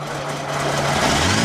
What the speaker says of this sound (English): Let's hear what the engine sounds like.